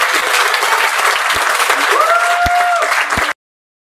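A theatre audience applauds loudly and steadily after a stage play, with a brief whistle-like tone partway through, before the clapping cuts off abruptly.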